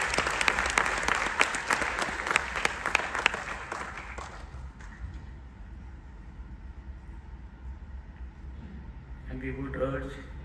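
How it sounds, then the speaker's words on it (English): An audience at an auditorium's inauguration claps in a full, dense round of applause that thins out and dies away after a few seconds, leaving a quiet room and then a voice speaking. "A big round of applause for them also."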